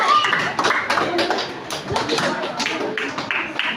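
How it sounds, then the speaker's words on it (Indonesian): A classroom applauding a student group, a dense ragged burst of many hands clapping close by, steady at first and slowly thinning, with voices murmuring underneath. "Untuk kelompok Kimat, beri tepuk tangan dia."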